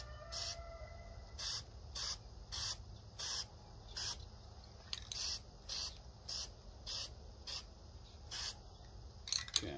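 Several short bursts of spray paint hiss onto woodstove parts, each about a third of a second, spaced evenly in a regular rhythm, close and fairly faint over a low room rumble.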